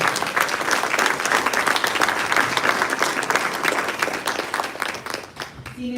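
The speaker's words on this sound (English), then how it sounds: "if you would join me in giving a round of applause" Applause at a college commencement ceremony: a crowd claps steadily and loudly for several seconds, then fades as a voice begins speaking near the end.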